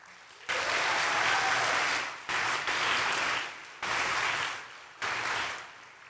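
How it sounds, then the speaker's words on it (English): Rounds of applause for nursing graduates at a pinning ceremony, loud bursts of clapping from a crowd that stop and restart several times in quick succession. "let's give all these graduates another big hand."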